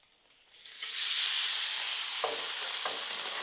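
Grease from hamburger meat sizzles on a Blackstone griddle, starting quietly and then swelling into a steady, close hiss, with a few light scraping taps near the end.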